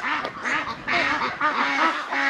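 A large flock of over 2,000 Van Dinh ducks on a farm quacks continuously up close, many overlapping nasal calls in a busy, steady chatter.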